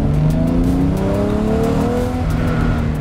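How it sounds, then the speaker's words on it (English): A naturally aspirated 12-cylinder engine in a racing-inspired GT car revs loud and close, rising and falling in smooth continuous pitch sweeps with no talk over it. "a big, powerful, racing-inspired engine"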